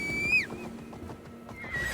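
In Assassin's Creed Valhalla a horse gives a close, high whinny that drops off sharply, then snorts softly and whinnies faintly again near the end.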